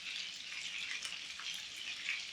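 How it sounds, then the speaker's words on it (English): Meat patties sizzle steadily in a hot pan, a soft continuous crackle and hiss with no talking. "Can you hear the little sizzling noises?"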